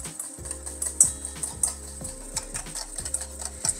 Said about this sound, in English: Give that a little whisk, and then start slowly adding in some vegetable oil or flavorless oil.